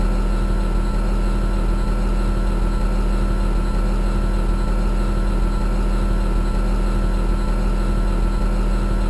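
A working excavator's diesel engine idles steadily with a constant low throb and harmonic hum, close and unchanging, while the operator adjusts the engine speed from the cab.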